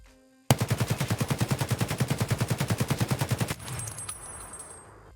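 An AK-MN rifle fires 7.62 PS rounds in Escape From Tarkov in one sustained full-auto burst of about thirty evenly spaced, loud, close shots, then cuts off into a fading echo tail.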